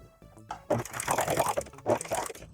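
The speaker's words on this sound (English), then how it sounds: "keep this nice and stretched out while it goes through the machine" A serger overlocker runs a stretched lettuce hem at a slow stitch, giving a close, steady mechanical whir with soft rattling bursts that swell and fade over a couple of seconds.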